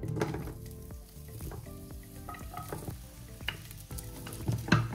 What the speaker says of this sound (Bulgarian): Слагаме си 10 мл зехтинче и добавяме всички зеленчуци без черитата.